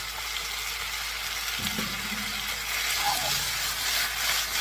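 Soy sauce sizzling with beef in a pan for Mongolian beef, a broad steady hiss of frying that grows slightly louder partway through, fairly close and with no one talking.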